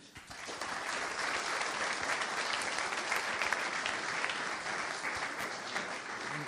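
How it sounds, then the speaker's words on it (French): A conference audience claps steadily, a dense, even wash of applause that swells in and holds strong throughout, close and continuous with no voice on top. "Je vous demande de l'applaudir."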